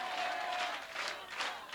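A church congregation claps together during a Sunday worship sermon, producing a steady, rhythmic pattering of many hands that fills the room, with a voice faintly mixed in.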